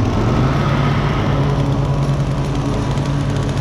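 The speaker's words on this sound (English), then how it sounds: "me on the trimmer, the boy on the mower, and I got another boy on the push mower out in the back" String trimmers and lawn mowers, including a riding mower and a push mower, drone continuously and loudly together during yard work, a dense steady engine roar with no pauses.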